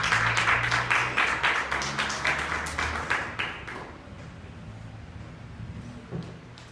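Church congregation giving applause to the Lord, a burst of dense clapping with rhythmic accents that fades out after about four seconds, leaving quiet room tone with a few faint sounds.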